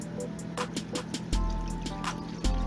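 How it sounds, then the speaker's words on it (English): A cup of water poured into mayonnaise in a mixing bowl in a home kitchen gives a steady trickling, gurgling stream with small splashes, close and moderately loud, without talk. "I'm going to add 1 cup of water."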